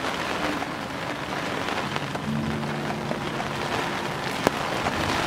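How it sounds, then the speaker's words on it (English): Heavy rain pouring steadily at Manatee Pocket, a dense, constant hiss drumming on surfaces, loud and close, with a faint low hum beneath and no voices. "It's pouring rain right now."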